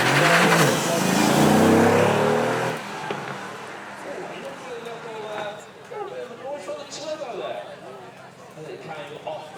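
A Mercedes-AMG GT R engine revs hard nearby at a supercar weekend event, its roar swelling and then easing off, while commentary carries on over the fading engine.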